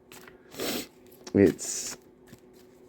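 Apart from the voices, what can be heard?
shuffling cards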